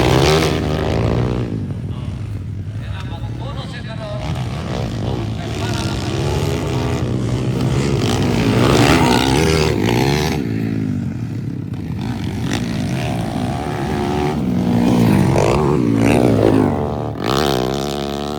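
Motocross underbone motorcycles race in an open final heat at a Cabanglasan dirt-track competition, engines droning and revving continuously with shifting pitch, close and loud, with crowd noise and an announcer talking over them throughout.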